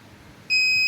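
An Arduino-driven buzzer sounds when its sensor detects an object, a sudden loud steady electronic tone cutting in after a quiet moment and holding to the end.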